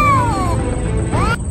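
A person imitates a cat's meow with two drawn-out, wavering calls, loud and close, on a Filipino film set.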